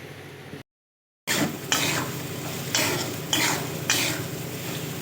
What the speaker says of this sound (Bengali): এইভাবে আলুটাকে ভেজে নেব।